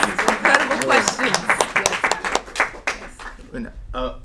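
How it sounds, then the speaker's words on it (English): Audience claps after an academic talk on Black radicalism, a burst of clapping mixed with voices that thins out and fades toward the end. "Can we give Professor Johnson a round of applause?"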